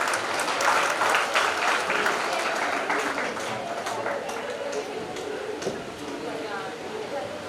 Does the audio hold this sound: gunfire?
no